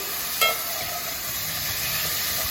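A fish roe and lentil puttu mixture fries in a pan with a steady sizzle, a sharp clink of the spoon near the start, then continuous stirring scrapes with no talk.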